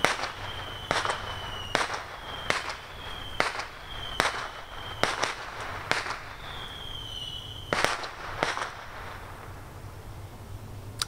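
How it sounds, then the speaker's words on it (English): A rapid series of sharp firecracker bangs, about a dozen loud pops at uneven intervals, some followed by a brief whistling whine. "I'm being firecracker log bombed."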